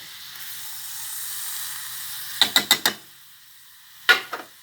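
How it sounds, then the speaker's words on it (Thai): A faint, steady sizzle of minced pork frying in a hot pan without oil, broken by two bursts of sharp crackling clicks. "ตั้งกระทะเลยนะคะ ใส่หมูลงไปหมูบด"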